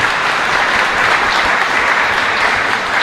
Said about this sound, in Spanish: Fuerte aplauso para nuestra comunidad.